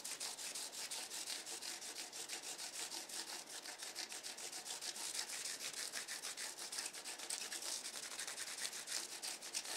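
Sanding block rubbed over the frets of a cigar box guitar, a steady rapid back-and-forth scratchy rasping that continues evenly and close throughout, fairly quiet, with no talking.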